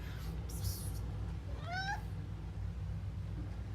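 A pet cat gives a single rising meow, fairly clear and close, over a steady low indoor hum with no talking.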